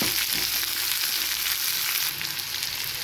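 Chopped onion frying in a pan of curry for dosa masala, a loud, dense, steady sizzle with no voices over it.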